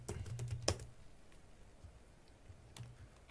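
Computer keyboard typing, a quick burst of close key clicks at the start, then near silence before a few more taps near the end.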